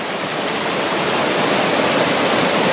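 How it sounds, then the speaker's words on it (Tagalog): A stream flows at Bira-Bira Falls in Cawag, Zambales, a loud, constant rushing of water heard close up with no break and no voices. "merong batis dito oh."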